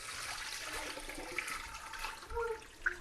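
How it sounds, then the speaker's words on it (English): Water runs and splashes steadily as cut yam is drained and rinsed, a soft close rush of liquid with small gurgles and a brief clatter near the end. "drain and rinse it again."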